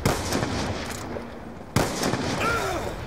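Black Ops II gunfire crackles in dense bursts with sharp cracks, then a louder report cuts in partway through and is followed by more shots and a short voice-like tone.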